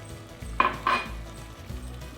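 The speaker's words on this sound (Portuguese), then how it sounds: "E vou mexer para incorporar bem" A utensil stirs cornstarch dissolved in milk into a pan of chicken pie filling, giving two quick metallic clinks close by against a quiet kitchen background.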